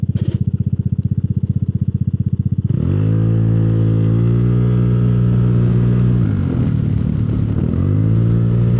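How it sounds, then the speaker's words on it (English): A tuned Vespa scooter engine runs with a pulsing idle, then roars up into a loud, strained drone that sags and wavers as it bogs down and nearly dies, close and steady with no talk. "So it's bogging down it's like almost dying as we're doing that"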